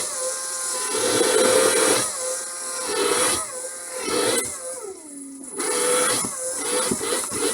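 Ryobi R18PD5 brushless electric drill/driver running, a loud close motor whine in repeated bursts that rise, dip and change pitch between runs, with brief pauses and no talking.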